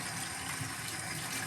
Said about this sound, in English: because the water's gonna be running